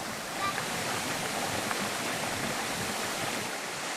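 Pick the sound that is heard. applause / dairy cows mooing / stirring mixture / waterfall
waterfall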